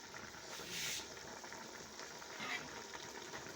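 Ogbono soup bubbling steadily in a pot, a soft continuous simmering hiss with a brief brighter burst of bubbling near the start and another faint swell later.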